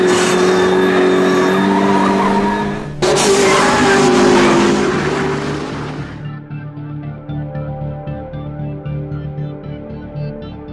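A McLaren hypercar on a timed track lap roars loudly nearby with a strong engine note, then the sound cuts and the engine fades into the distance with a wavering drone.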